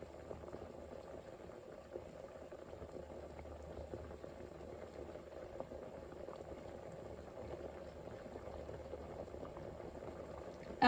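German potato soup bubbling in a pot at a low, steady boil, a soft continuous burble of liquid with no talking.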